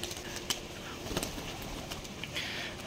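Giribaz pigeons at a pigeon farm coo softly at a moderate distance, with a few brief wing flutters and small knocks over a quiet hiss of ambience.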